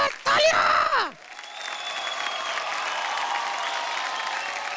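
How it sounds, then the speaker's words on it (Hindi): A television folk singing contest audience breaks into brief applause and cheering after a performance, heard after a short burst of loud voices, then fading into a sustained crowd wash with music. "जोरदार तालियां!"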